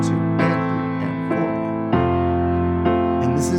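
Piano playing a steady pop rhythm pattern of repeated chords, counted in even eighth-note pulses with sustained low bass tones, close and clear with a fresh chord change partway through.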